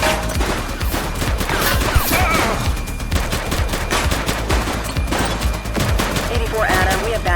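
Sustained police shootout in The Precinct video game, with dense bursts of gunfire and rapid automatic shots crackling throughout, loud and continuous, with brief voices shouting in the mix.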